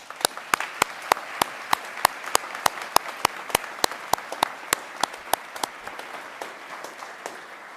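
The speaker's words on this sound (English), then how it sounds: "Can we please give them another round of applause?" Applause rings out for award recipients at a Secretary of Defense disability awards ceremony, a crowd clapping steadily with sharp claps standing out for several seconds before slowly tapering off.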